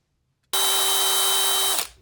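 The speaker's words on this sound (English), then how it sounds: "Just as the drill stopped," A power drill runs loud and steady at a constant pitch for over a second, then stops abruptly, set in a woodworking context.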